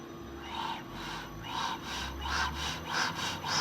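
A reassembled air compressor, cleaned and filled with oil, runs with a steady low hum under a slow, rhythmic pulsing chug, moderately loud and continuous with no talk.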